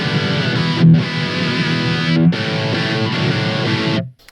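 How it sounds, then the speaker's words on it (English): Ibanez DG555 Destroyer electric guitar through a moderate-gain, Marshall-style distortion, loud close chords strummed in a few sustained bursts with brief gaps, ending in a quick cutoff. "now I'll get you a distortion sound, which is Marshall-esque type of sound. Not a super high gain though."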